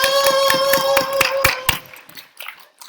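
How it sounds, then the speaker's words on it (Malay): A group of students in a class claps in a rhythmic, evenly spaced pattern of sharp hand claps, about nine beats over a sustained tone, then the clapping stops and the room falls quiet. "Berikan tepukan guru kepada diri masing-masing"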